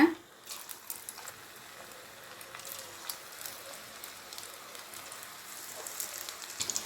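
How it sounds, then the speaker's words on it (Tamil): Mutton kola urundai meatballs deep frying in oil over a medium flame give a soft, close bubbling crackle with scattered small pops, fairly quiet throughout. "மட்டன் உள்ளே வேகணும், அதுக்காக மீடியம் ஃப்ளேமில் தான் வச்சு பொரிச்சு எடுக்கணும்"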